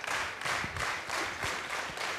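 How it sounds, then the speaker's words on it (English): A badminton crowd at match point claps in unison, a slow, regular rhythmic beat of hand claps repeating about every half second, fairly distant and soft inside the arena. "The hand clap."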